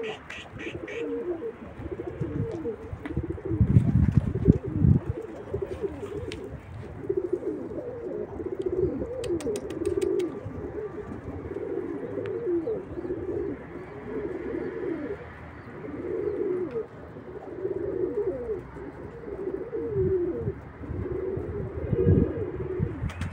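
Tumbler pigeons coo in low, throaty, repeated phrases that come close and clear, several birds overlapping in rolling bursts with short pauses between.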